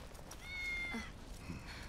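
Cat in the video game Final Fantasy 7 Remake giving a short, faint meow, quiet and alone against a low background.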